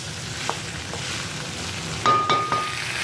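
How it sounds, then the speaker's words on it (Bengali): Chicken pieces fry in oil for a chicken fry curry, long-cooked until the oil separates. A steady close sizzle runs throughout, and a few sharp spoon clinks on the pan come near the end. No one speaks. "আমি চিকেনটা দিয়ে অনেকক্ষণ ধরে কষিয়েছি"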